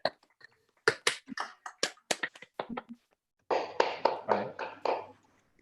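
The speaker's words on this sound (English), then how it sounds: "Everybody unmute, give a clap." An online seminar audience claps over video call, scattered uneven hand claps and taps from a few people at first, then a denser burst of overlapping applause.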